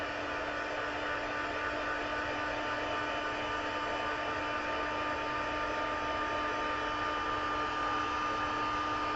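An embossing heat tool dries ink on a stamped card, blowing a steady, loud, whirring rush with a faint tonal whine that runs unbroken throughout, with no talk.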